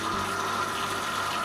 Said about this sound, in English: Hold the flush valve in the back side.